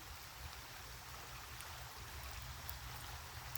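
A creek flows steadily near a home deck, giving a soft, continuous wash of running water with no voices over it.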